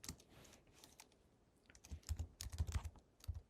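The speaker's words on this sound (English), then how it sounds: "You're going to hold down caps lock and you're going to type in Starbucks." Typing on a computer keyboard with caps lock held, sparse light key taps at first building to a quicker cluster of sharper, closer clicks, with no voices.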